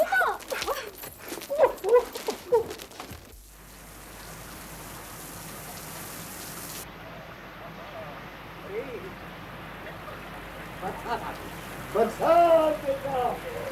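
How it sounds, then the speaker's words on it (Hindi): Steady rain falling, a dense hiss of drops on surfaces that carries on throughout, with people talking before and near the end. "देखो बारिश हो रही है।"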